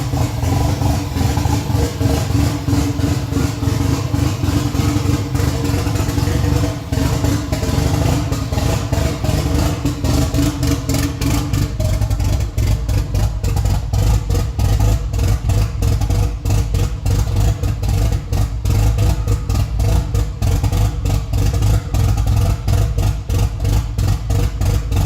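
A freshly rebuilt Nissan 180 engine runs steadily after a long time sitting, with a loud, close, continuous idle and occasional revs and no talking.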